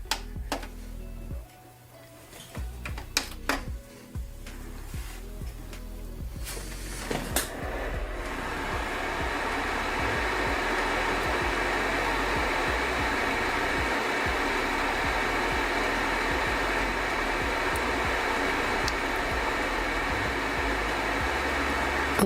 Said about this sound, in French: ça reste un vidéoprojecteur assez bruyant